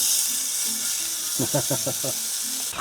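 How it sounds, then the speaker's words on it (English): Broadband sizzling hiss from chicken cooking in a hot pan runs throughout, close and steady, with a voice speaking briefly over it. "Ooh, I hear sizzling."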